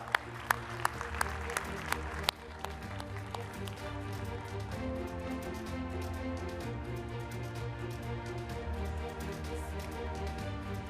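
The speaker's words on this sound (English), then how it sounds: "A round of applause, ladies and gentlemen." An audience applauds at a formal event on AI, with a few sharp claps at first that give way to a continuous wash of clapping mixed with sustained tonal music.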